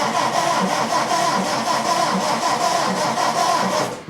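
A 73-year-old VW Beetle engine cranks with the fuel shut off, giving a steady, rapid rhythmic churning from the starter that goes on for several seconds without catching, loud and close.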